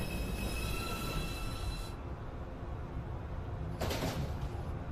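A Manhattan-bound NYC subway 2 train at Beverly Road station hums loudly with a high wheel squeal that cuts off midway, followed by a brief burst of door or brake noise.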